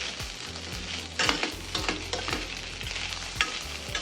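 Spices with salt and peri peri powder sautéed in a pan, a continuous close sizzle with repeated scraping strokes of a spoon stirring at a steady rhythm, no voices.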